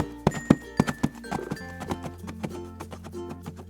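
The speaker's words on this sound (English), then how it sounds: "Horse says neigh, neigh." A horse's hooves clip-clop in a quick uneven series of close knocks, with a brief whinny rising over them early on; no one speaks.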